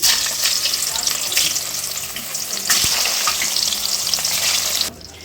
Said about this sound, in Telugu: ముక్కల్ని అయితే నేను ఫ్రై చేసుకుంటాను గోల్డెన్ బ్రౌన్ కలర్లోకి రావాలి